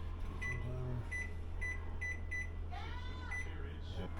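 An oven timer beeps in a short run of repeated high tones, clear and close over a steady kitchen hum, while a voice speaks alongside.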